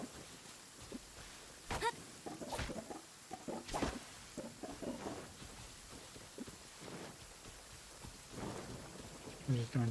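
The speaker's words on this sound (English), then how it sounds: "Now can I stall long enough that it stops raining here as well?" Rain and thunder in the video game Genshin Impact, a steady patter of rain with several sharp crackling thunder strikes and rumbles, under faint talk.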